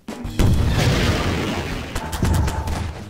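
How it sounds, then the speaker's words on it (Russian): An underwater explosion in Garry's Mod gives a heavy muffled boom that sets in abruptly, then a long churning rumble and a second deep thud, loud and close with no speech. "Кстати, вы слышали, когда взрываются под водой, звуки изменили?"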